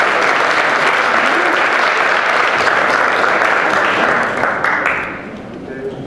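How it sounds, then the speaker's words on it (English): A room full of people applauds a Korean Consul General after his introduction, a loud, continuous wash of clapping that holds steady and then tapers off at the end, with some voices mixed in. "Please give him a round of applause."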